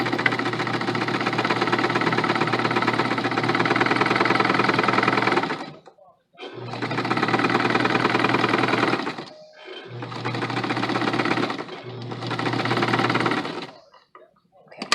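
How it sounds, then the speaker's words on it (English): A sewing machine stitches a curved seam with an eighth-inch allowance, running in four loud, fast-whirring bursts separated by short pauses. "I'm going to stitch this along the curve right here with an 1/8 of an inch seam allowance."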